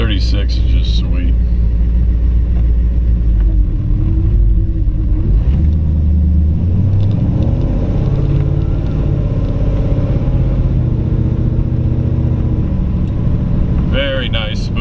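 A 1936 Ford three-window coupe, all steel and Ford powered, out on the road, its engine a steady low rumble throughout with some rise and fall as it pulls, heard from inside the car with a voice talking over it.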